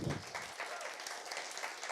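Audience applause at a SXSW 2022 Pitch Day event, a steady dense wash of clapping from a crowd that swells up quickly and holds at a moderate, somewhat distant level throughout.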